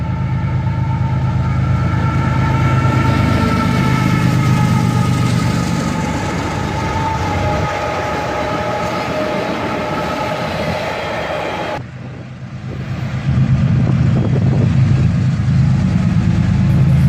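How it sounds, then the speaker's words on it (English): A southbound CSX freight train passes through falling snow, its loud steady rumble and rolling wagon noise close by, dipping briefly before surging again as the cars keep coming. "CSX train coming through the snow."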